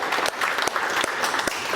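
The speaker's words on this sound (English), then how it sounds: "Give a round of applause to yourself for being here on time." Workshop audience giving themselves a round of applause at the start of a session, with dense, loud, continuous clapping from many people and a few sharper individual claps standing out.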